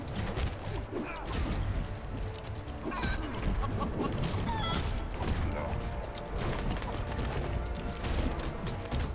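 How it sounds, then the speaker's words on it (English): A chicken clucks in Lego Marvel Superheroes 2 amid a dense, busy mix of game action, effects and background noise, its calls steady rather than standing out. "It's a chicken!"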